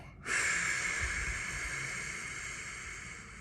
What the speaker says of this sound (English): I want you to take a nice inhale and a nice exhale